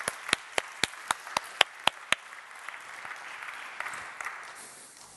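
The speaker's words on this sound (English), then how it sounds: "Thank you all for coming on stage. Round of applause." At a tech conference talk, one nearby person claps sharply about nine times in a quick steady rhythm while fainter scattered clapping from the audience trails off afterward.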